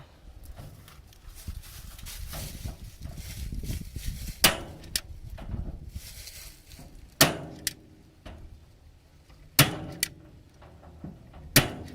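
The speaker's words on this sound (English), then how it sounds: "Staple gun is definitely a lot easier to use than my old one." A staple gun fires staples into a used cage being rehabilitated. Several sharp, loud snaps land a few seconds apart over a background of rustling and handling noise.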